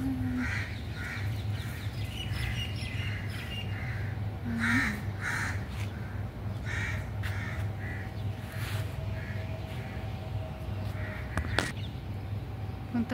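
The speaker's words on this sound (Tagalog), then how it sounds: "Ang ingay ng uwak." Crows caw repeatedly near a lemon tree in a home garden, harsh calls in irregular bursts over a steady low background hum, moderately close, with no talking.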